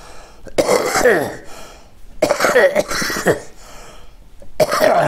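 Several harsh coughs come in three bursts with short pauses between, close and fairly loud, with no talking.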